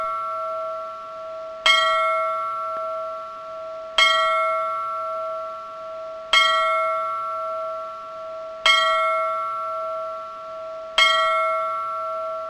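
A bell tolling in the 1995 DOS point-and-click game The Riddle of Master Lu: six clear, resonant strikes at an even pace about two seconds apart, each ringing out with a sustained humming tone that lingers between them.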